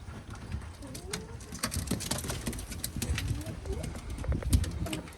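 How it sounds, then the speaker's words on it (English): Stock pigeons cooing inside a loft, a steady low murmur of soft coos with scattered clicks and shuffling throughout, while someone talks briefly nearby. "And the stock birds."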